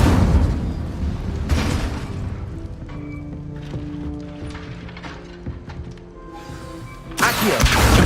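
An Incendio fire spell is cast in the video game Hogwarts Legacy, with two loud fiery bursts, one early and one at the end, and softer mechanical clanks and hums between them.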